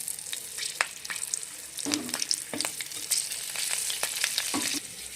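Green chillies hit hot oil as a tempering for a fish curry, giving sharp crackles and spitting pops in bursts over a continuous hiss, close and loud with no voices.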